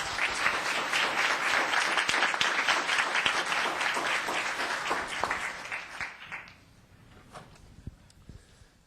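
Town council meeting audience gives sustained applause, many hands clapping in a full, even roar that thins out and fades to scattered claps and room quiet near the end.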